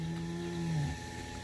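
Dairy cows for sale at a cattle sale in Itaíba, Pernambuco, with one close, loud, drawn-out moo lasting under a second, followed by quieter pen noise.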